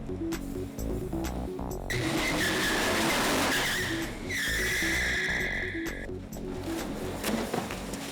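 Car tires spinning and squealing on a freeway, two long high-pitched squeals of a couple of seconds each over a revving engine, loud and close.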